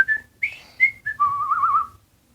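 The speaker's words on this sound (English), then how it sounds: "whistling the whole way as if nothing unusual was happening" A person whistles a short, wandering tune alone, a few brief notes followed by a longer warbling phrase, close and clear.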